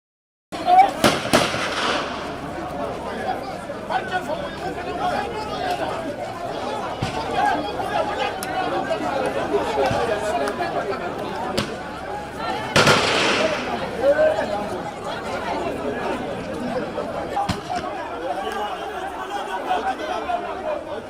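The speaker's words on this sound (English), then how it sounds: "that resulted to the firing of tear gas canisters and live gunshots by security forces" Sharp bangs and popping shots from live gunfire and tear gas canisters fired by security forces ring out sporadically amid a noisy crowd with shouting and chatter, with a couple of louder bursts, in Koinadugu District.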